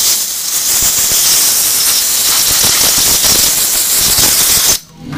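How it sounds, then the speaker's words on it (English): A compressed-air blast blows down a Briggs & Stratton carburettor, a loud steady hiss running nearly five seconds close by, then cutting off abruptly. "if you have an air compressor, like I do, just blow it down."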